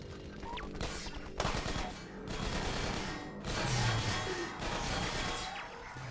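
Gunfire in the video game Half-Life, dense muffled bursts of shots and impacts that roll on over a steady low background rumble, moderately loud with no voices.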